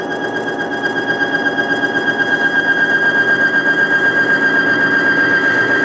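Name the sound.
bearing test machine squealing as pressure is applied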